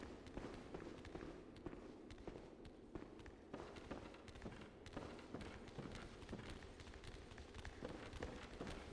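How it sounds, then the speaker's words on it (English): Many monster footsteps in the FOUNDRY video game, a dense, steady patter of quick thumping steps running continuously at low volume. "All the footsteps."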